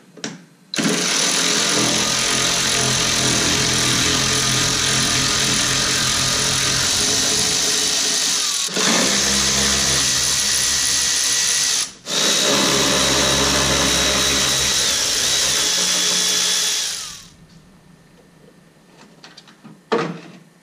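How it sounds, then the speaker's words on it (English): A powered 10 mm socket driver removes the driver's-side taillight bolts on a 2005-or-later Toyota Tacoma, giving a loud, steady whirring drone that runs for long stretches, with a couple of brief breaks before it winds down to quiet clicks. "you are going to use a 10 millimeter socket to get these bolts removed"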